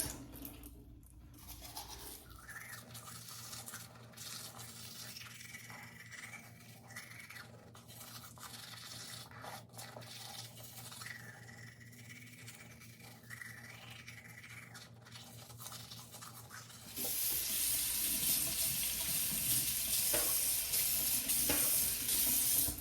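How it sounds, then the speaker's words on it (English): A medium-bristle toothbrush scrubs teeth with a steady, close scratchy brushing rhythm that gets louder and wetter toward the end, with no speech. "Can't forget to brush my teeth before I get started on my new aligners."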